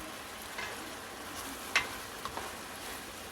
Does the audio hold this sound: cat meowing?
no